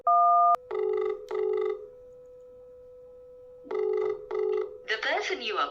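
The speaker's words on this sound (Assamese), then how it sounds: "ফোনটো কাটি দিলে" Call-ended tone on a phone during a prank call: a short high beep, then repeated pulsed electronic tones in bursts, with a voice speaking briefly at the end.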